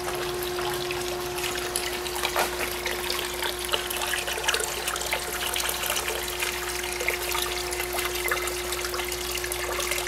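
Water is pumped through a test treatment unit and flows into a 20 gallon bucket, giving a steady trickling, splashing stream with a constant mechanical hum underneath.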